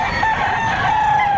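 A rooster crows loudly and close at a chicken market in Batangas, a single sustained call with strong harmonic tones holding across the whole moment.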